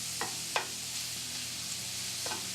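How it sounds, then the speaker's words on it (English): Onions fry in rendered bacon fat, giving a steady close sizzle with a few soft stirring scrapes in the pan, quiet and without speech. "As soon as some of the fat cooks out, we can add our onions."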